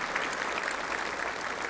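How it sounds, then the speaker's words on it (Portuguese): Audience at a church sermon applauds steadily, a dense, even clapping from a crowd lasting the whole moment without pause. "Você pode aplaudir, agradecer?"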